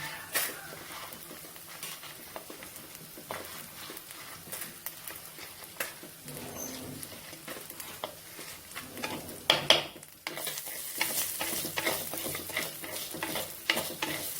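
Onions and dried red chillies fry in oil in a pan with a soft, close sizzle, broken by frequent scraping stirs; the hiss grows louder toward the end.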